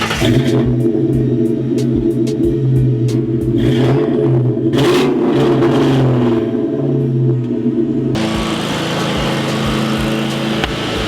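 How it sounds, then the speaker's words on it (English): A Mustang's 4.6 V8 exhaust rumbles loudly up close, its deep engine note swelling and revving, then settling into a rough, steady drone. "you guys just heard the little exhaust clip"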